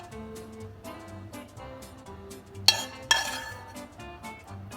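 A teaspoon scooping mushrooms into a muffin tin, giving two sharp metallic clinks over a soft background of light kitchen noise.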